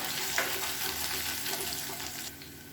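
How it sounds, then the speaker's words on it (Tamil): Ginger garlic paste sizzles and fries in a pan for dal biryani, a steady bright crackle with faint stirring scrapes throughout, close and uninterrupted by voices. "இஞ்சி பூண்டு பேஸ்ட்டு நல்லா வதங்கிடுச்சு."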